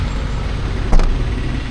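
A heavy tailgate on a 2025 Skoda Kylaq compact SUV slams shut once, a short solid thud mid-clip over a steady low background rumble.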